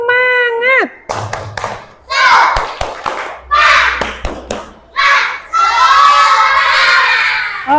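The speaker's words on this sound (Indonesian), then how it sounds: "Tepuk semangat." A classroom of children performs a rhythmic spirit clapping chant during an ice-breaking activity, with bursts of group clapping and loud shouted voices in several loud phrases, ending in sustained cheering.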